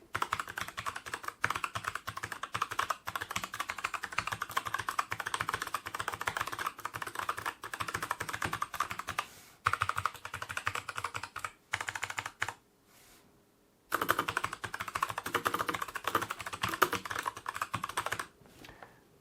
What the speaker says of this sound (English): let's give you an example of what the keyboard actually sounds like to type on